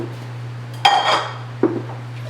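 A spoon clanks against a metal pot while potatoes are stirred into kale soup, two sharp scraping knocks over a steady low kitchen hum.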